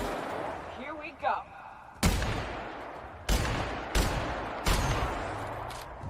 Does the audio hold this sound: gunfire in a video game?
yes